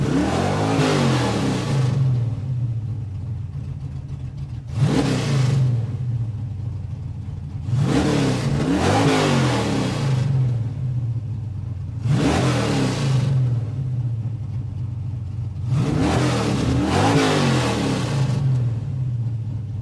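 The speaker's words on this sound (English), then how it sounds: "Let's have a listen to that engine." A Chevrolet Chevelle SS454 big-block American muscle car in a racing video game revs four times, each burst climbing sharply then settling back to a deep, steady burbling idle, loud and close with no talk.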